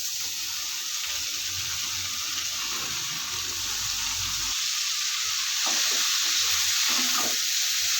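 Fresh spinach hits a hot pan for a prawn curry, giving a steady, close sizzle that rises slightly in the second half, alone with no talking.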